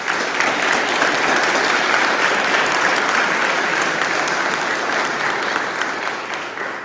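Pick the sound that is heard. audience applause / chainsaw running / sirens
audience applause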